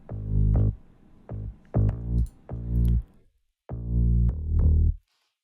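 A heavily distorted synth bass line from an Ableton Operator guitar bass preset, played as a series of gritty, harmonically rich sustained notes in a rhythmic pattern, loud and alone with brief gaps between phrases.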